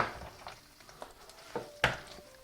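Chorizo sizzling gently in a pan on low heat, a soft steady frying crackle close by, punctuated by a few sharper stirring clicks and pops.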